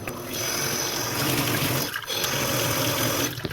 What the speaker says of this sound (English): Got your water back on. We will test it and purge the neck all at the same time.